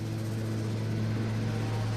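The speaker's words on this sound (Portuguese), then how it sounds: "Ten e Raymond iniciam sua corrida de decolagem" Airliner engines at full takeoff power roaring steadily and loudly through the run down the runway in light snow, a dense continuous drone with strong low hum and no break.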